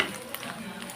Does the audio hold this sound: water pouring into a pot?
no